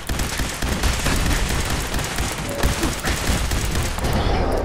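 Rapid bursts of gunfire from the Fallout 4 video game, Automatron add-on, crackle continuously for nearly five seconds, dense and loud with overlapping shots.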